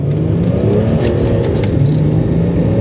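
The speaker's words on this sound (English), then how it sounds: "even with a diesel engine, this thing still just drives absolutely beautifully" A BMW 330d E46 diesel car driving, its engine a steady low drone with road and tyre roar throughout, with no talking.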